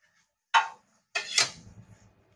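Spoon stirring grated coconut, fried flour and milk powder in a pan, two distinct scraping clinks, the second longer and rougher, close and otherwise quiet.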